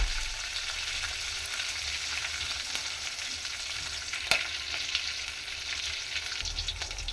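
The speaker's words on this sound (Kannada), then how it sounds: "ಆಮೇಲೆ ಹಸಿಮೆಣಸಿನಕಾಯಿ ಹಾಕೋಣ. ಇದು ಸ್ವಲ್ಪ ಫ್ರೈ ಆಗಲಿ." Green chillies fry in hot oil in a pan for vermicelli uppittu, making a continuous close crackling sizzle that holds steady throughout, with one brief sharper pop partway through and no voices.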